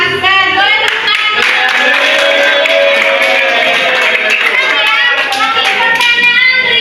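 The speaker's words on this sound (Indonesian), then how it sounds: "Boleh tepuk tangan." Students in a university economics class clap together in a lively burst of hand claps, mixed with overlapping voices and cheerful chatter, close and loud.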